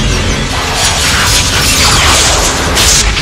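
A starship's outer hull bursts open in a Star Trek parody, a loud, sustained booming rumble with crackling debris and bright metallic bursts throughout, filling the whole span without pause.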